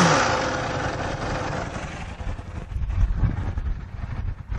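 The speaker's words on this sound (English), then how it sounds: "Let's give it a quick listen." A 2008 Buell 1125R motorcycle with under 5,500 miles idles close by, a steady low engine rumble with a slight swell in loudness partway through, heard alone.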